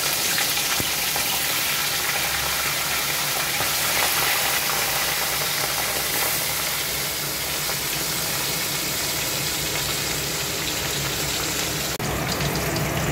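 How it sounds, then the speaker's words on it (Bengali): Fish fry one by one in hot oil in a wok for a spicy red fish curry, producing a loud, continuous, dense hiss of bubbling oil that holds steady throughout. "কড়াইয়ে তেলটা গরম হওয়া পর্যন্ত অপেক্ষা করব। একটা একটা করে মাছ ভেজে নেব।"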